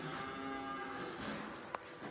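A cow at Stonewall Farm gives a long, low moo that carries on for about two seconds, fairly faint and distant, outdoors with no talking over it.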